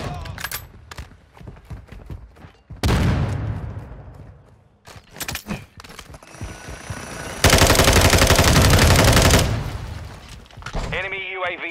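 Bursts of automatic gunfire in Call of Duty MW2 hardcore free-for-all on PS5: a long sustained loud volley, separate rapid strings of shots and single cracks, with a player talking in between.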